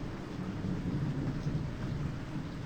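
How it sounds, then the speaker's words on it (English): Steady rain pours in the video game Corpse Party, with a low rumble of thunder rolling beneath it, evenly loud and unbroken throughout, with no voices. "It was a rainy evening after school, just like this one."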